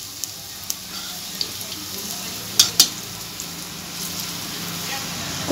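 Elephant foot yam koftas sizzle in hot oil after being flipped, a steady close frying hiss with a few sharp pops and spatters.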